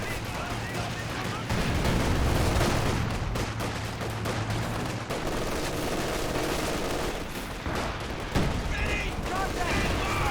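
Mortar shelling in Company of Heroes 2, with repeated booming impacts and scattered gunfire in a dense battle din, loud and continuous, while a voice talks over it.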